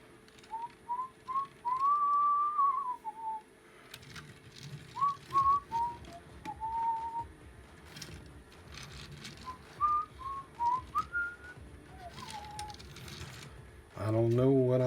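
A person whistles a meandering, improvised tune in short melodic phrases, fairly close, over faint clicks and handling noise, ending with a louder clatter.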